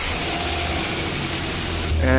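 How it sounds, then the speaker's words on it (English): A cheap used Ford SportKa started off a charged booster battery, its engine holding a steady, droning idle close by, with the tone shifting slightly near the end. "So I hooked up a charge-up battery and I was able to start the car"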